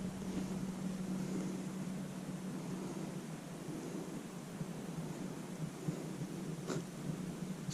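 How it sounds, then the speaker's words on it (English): Steady wind rushing across open high ground in the Dolly Sods Wilderness, a continuous broadband roar with a low hum beneath it and no voices. "Wind. Wind."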